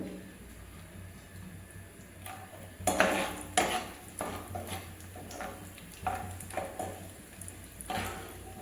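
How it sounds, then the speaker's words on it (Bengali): A spoon clinks and scrapes in a pan as raisins are stirred and fried for carrot halwa, with irregular knocks and clatter over a faint background sizzle. "কিশমিশ বেশি ভাজতে পারবে না, অল্প একটুখানি নাড়াচাড়া করলে করতেও হয়ে যাবে।"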